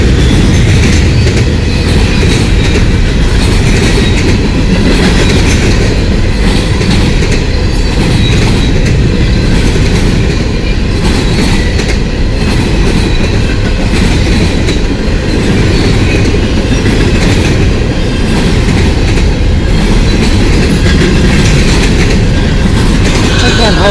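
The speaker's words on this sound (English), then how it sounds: "here comes the steam train" A steam train rolls past close by, a loud continuous rumble of wheels and cars with clickety-clack rhythm filling the whole span without letup.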